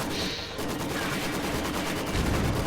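Machine gun fire in a World War II strategy game as Panzer Fusiliers charge the gun position, a dense, continuous rattle of rapid bursts with battle noise and a louder thump near the end.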